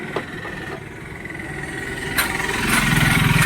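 A Maxima autorickshaw engine idles with a steady, close rattling hum after being refitted, its note gradually rising toward the end.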